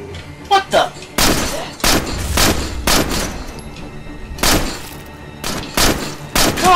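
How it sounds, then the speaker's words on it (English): Video game gunfire in State of Decay, heavy bursts of suppression fire repeating loudly through the clip with thumping shots and short pauses, with voices talking over the action. "let's lay down some suppression fire, boys"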